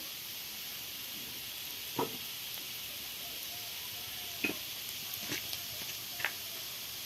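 Spices with coriander powder, cumin powder and fried potatoes sauté in a pan, giving a continuous soft sizzle and hiss with a few sharp spatula clicks scattered through it.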